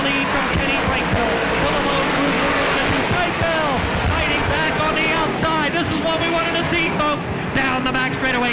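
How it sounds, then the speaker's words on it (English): Big block modified race cars roar around Bridgeport Speedway, a dense, loud wall of engine noise with rising and falling passes and tire squeal, while an announcer talks over the action. "Hoffman and Brightville dueling for position."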